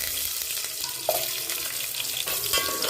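Onions frying in hot oil with mustard seeds and curry leaves for coconut mutton curry, a continuous close sizzle with faint stirring scrapes and a few small pops, no voices.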